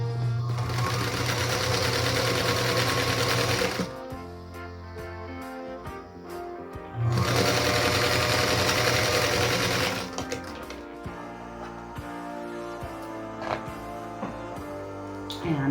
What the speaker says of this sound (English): Then we'll sew them together along the long edge.